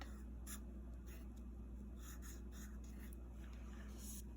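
A pen drawing a square on a paper card, heard as several soft, scratchy strokes in short bursts, close and faint over a steady low background hum, with no talking.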